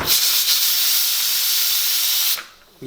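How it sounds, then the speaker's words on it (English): A pressure cooker holding ham and beans hisses loud, continuous steam up close, then cuts off abruptly near the end, leaving brief quiet. "It's a pressure cooker."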